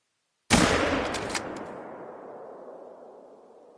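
A single sharp report from a light hunting rifle in The Hunter: Call of the Wild, loud and close, followed by a long echoing tail that fades over several seconds.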